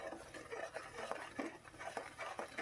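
Ground onion paste being stirred in a pot for mutton curry, a faint spoon scraping in soft, repeated strokes, quiet and close.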